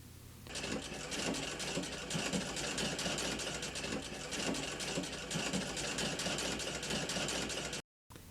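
A Singer sewing machine runs steadily at close range, a fast continuous mechanical whirring with a rapid needle rhythm, then cuts out briefly near the end.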